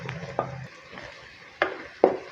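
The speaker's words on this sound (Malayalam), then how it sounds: "വഴന്ന് വന്ന സവോളയിലേക്ക് പച്ചമുളക് ഇട്ടിട്ടുണ്ട്." Green chilies dropped into golden sautéed onions in a pan for a Kerala-style cauliflower stew, giving a soft sizzle with a few sharp stirring scrapes and clinks, close and brief with no talk.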